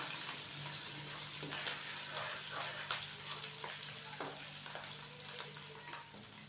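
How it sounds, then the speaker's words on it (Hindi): Ginger garlic paste fries with onions in a pan for chicken pulao, a steady soft sizzle broken by scraping stirs of a spoon, quiet and close with no talk. "अच्छे से इसको मिक्स करेंगे और हल्का सा फ्राई करेंगे।"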